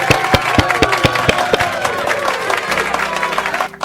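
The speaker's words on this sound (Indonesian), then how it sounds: "Tepuk tangan bagi semua." Audience clapping at a motivational talk on positive speaking, dense and loud with sharp claps and some cheering voices, sustained for several seconds before tapering off at the end.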